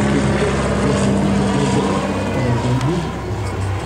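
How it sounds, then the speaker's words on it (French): A German propeller airplane flies past at the Lens-Bénifontaine air meeting in France, a steady droning engine hum close and loud, with people chatting nearby. "Un avion allemand."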